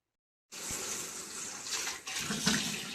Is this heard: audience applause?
no